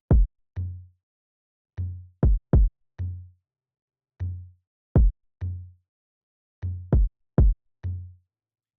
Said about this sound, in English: So yeah, the next I have is a bass percussion,